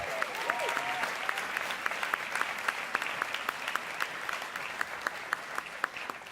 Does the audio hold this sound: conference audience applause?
yes